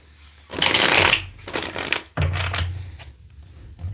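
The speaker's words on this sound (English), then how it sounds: "Let's get one more good shuffle here." A deck of tarot cards is shuffled up close in two or three quick riffling bursts with short pauses between them.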